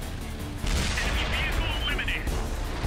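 An artillery shot in World of Tanks on Xbox 360, a single boom with a rumbling tail and a whistling shell passing overhead, heard under a narrating voice.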